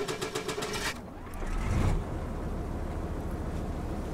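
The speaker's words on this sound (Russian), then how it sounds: "Давайте заведем автомобиль." A GAZ Yeger car engine in the video game DayZ cranks and catches with a brief low rumble, then settles into a steady idle hum, preceded by faint mechanical clicking.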